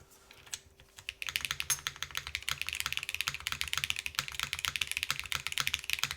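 Steady, fast typing on an Orbit R2 mechanical keyboard with a polycarbonate plate, close-up and alone, with crisp overlapping keystroke clicks after a brief quiet start.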